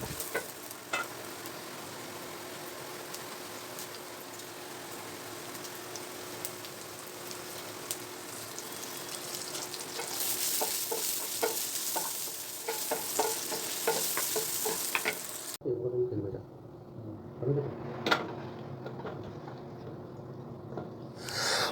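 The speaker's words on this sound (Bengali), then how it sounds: "আলুগুলোকে ছেড়ে দেব, অল্প লবণ এবং জিরে দিয়ে আলুগুলোকে ভেজে নেব" Potatoes frying in a pan of oil with a little salt and cumin give a steady, close sizzle with faint stirring clicks, which grows louder midway and then drops to quieter crackles.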